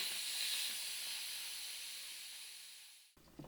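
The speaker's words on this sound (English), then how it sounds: "Now I'm going to open the vent." Steam hisses steadily from the pressure-release vent of an Instant Pot holding potato soup, a loud continuous rush that fades slightly before cutting off abruptly near the end, with no talk.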